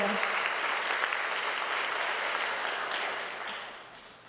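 An audience at a middle school parent night gives another round of applause, a full, continuous clapping that gradually thins and fades toward the end, with faint voices mixed in.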